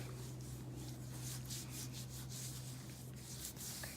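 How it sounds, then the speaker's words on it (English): Salt and poultry seasoning rubbed by hand onto a turkey breast, a steady soft scuffing and rubbing that runs throughout over a low constant hum, with no talking. "After you rub the salt and the poultry mix nicely"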